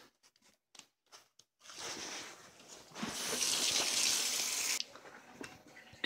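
Water gushes from a tap fed by a newly installed propane on-demand hot water heater, starting after a few clicks and knocks, rushing loudly for a few seconds, then dropping to a softer flow.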